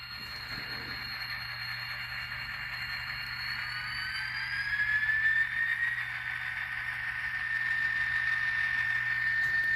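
A Kato model train engine running in reverse over cleaned turnouts on a layout, a faint continuous motor whine with a high thin tone that slowly shifts pitch, steady and close with no talking.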